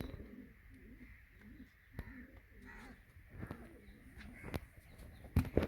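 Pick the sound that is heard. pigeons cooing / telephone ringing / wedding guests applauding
pigeons cooing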